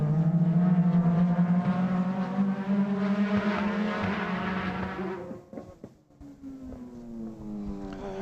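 Super GT race cars lapping Autopolis circuit, high engine notes climbing through the gears with pitch sweeps as they pass, one car close and loud fading away before another approaches.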